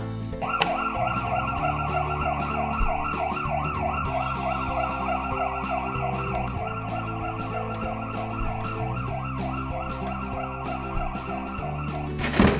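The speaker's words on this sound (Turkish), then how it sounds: "Burada da siren lambası ve ışıklar Nail Baba." A loud ambulance siren wails steadily up and down, continuous and close, with a constant low engine-like hum underneath.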